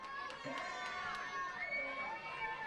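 Baseball crowd at a Newport Gulls vs Torrington Twisters summer game, a steady murmur of cheering and shouting from spectators, moderately distant and fairly faint throughout.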